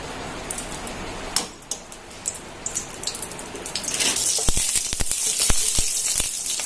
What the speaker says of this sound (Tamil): கடாய் நல்லா சூடான பிறகு நெய் ஆட் பண்ணிக்கலாம்.